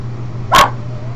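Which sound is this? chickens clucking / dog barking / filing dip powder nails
dog barking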